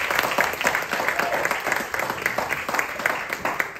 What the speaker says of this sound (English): One more time, clap for the Kyso team.